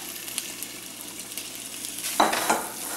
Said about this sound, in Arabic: كنضيف عليهم ملي كتذوب الزبده كنضيف عليهم القيمرون